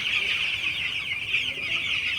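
Dense clucking and chirping from many broiler chickens at once inside a poultry house, a steady crowded chorus close by with no pauses.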